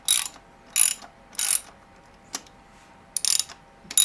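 Ratchet spinning off bolts from the cylinder head guard of a Ducati Multistrada V4 Rally: short, close clicking bursts in an uneven rhythm, about five runs, with quiet gaps between them and no speech.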